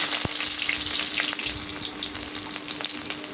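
Sliced onions go into hot oil for a mutton curry, giving a loud continuous sizzle with a sharp tap at the start and light crackling pops throughout.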